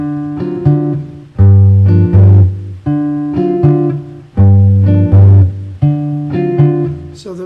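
Fingerstyle guitar plays a measure of walking bass line with steady quarter-note bass notes under chords, repeated phrases with strong plucked attacks and ringing harmonics, close and alone with no talking.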